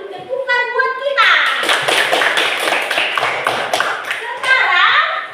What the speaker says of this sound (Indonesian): kita kasih dulu tepukan buat kita